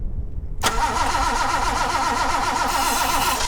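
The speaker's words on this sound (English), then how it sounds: "First attempt at a real start with the plugs in." A car engine cranks and catches on a first real start attempt with the spark plugs fitted, a sudden loud onset followed by a steady rough idle, close up and without talk.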